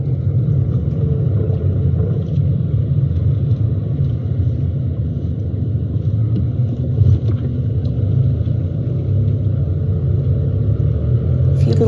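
A manual transmission van driving through heavy traffic, with a loud, steady low engine and road rumble that continues without a break, and a voice speaking over it.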